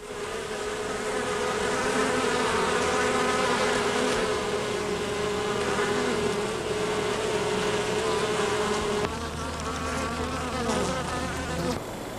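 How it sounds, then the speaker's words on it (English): Honey bees buzz densely and continuously inside a hive in a leatherwood-blossom area, a close, steady drone of many wings with no talk. "the young bees chew their way through the wax caps and emerge from their cells"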